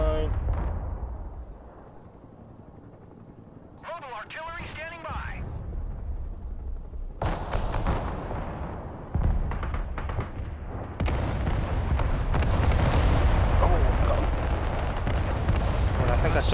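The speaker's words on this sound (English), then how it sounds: "I'm bombing the trees right here" Heavy artillery explosions boom through a Broken Arrow battle, deep rumbling blasts arriving in bursts with a rising whistle before one impact, and someone talks over the barrage.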